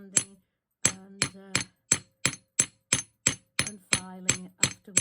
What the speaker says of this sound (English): if you hammer on the opposite side to where it's the direction it's going, it does level it out a little bit for you